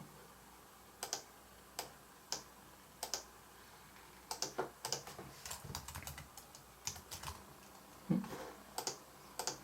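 Keys on a Konektia W8 Bluetooth keyboard click in quick, irregular bursts of light taps, close and fairly quiet, with no talking.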